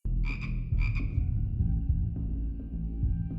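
Toads croak in a few quick, rattling bursts near the start, loud and close, followed by a continuing low rumbling background.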